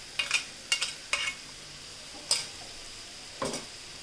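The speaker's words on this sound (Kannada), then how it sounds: "ಇದ್ರ ಜೊತೆನೇ ಇದ್ರದ್ದು ಕೂಡ ಹಸಿ ವಾಸನೆ ಹೋಗೋವರೆಗೂ ಫ್ರೈ ಮಾಡ್ಕೊಳ್ಳೋಣ." Chopped onions with a ground green chilli and coriander masala paste frying in a pan for vada pav filling, with a low sizzle broken by several sharp clicks and scrapes of stirring, close and fairly quiet.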